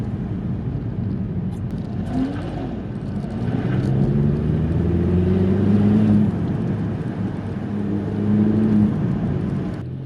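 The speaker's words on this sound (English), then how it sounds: "You can hear the little turbo spool up, which is quite nice." A BMW M140i's small turbo spooling up while driving, a faint rising whistle over steady engine drone and road noise heard from inside the car, swelling and easing a couple of times.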